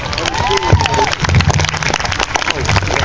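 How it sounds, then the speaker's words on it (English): An audience claps and cheers at a Light the Night remembrance ceremony, a steady wash of applause with a voice speaking over it. "Let's give yourselves a big round of applause."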